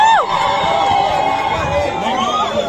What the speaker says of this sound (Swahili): Wapi shangwe na vigelegele jamani?